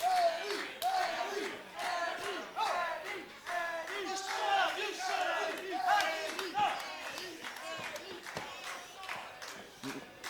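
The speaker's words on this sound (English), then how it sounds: "The crowd firmly behind Knight" A wrestling crowd at a tag team title match cheers and shouts in rising waves of chants and yells, loud and close, with a few claps mixed in.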